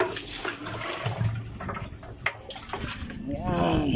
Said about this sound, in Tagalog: Kukuha tayo ngayon ng pandilig dito sa drum.